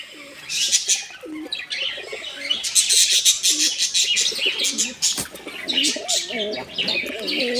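Several pigeons coo and chirp continuously nearby, a busy overlapping chorus with occasional wing flutters.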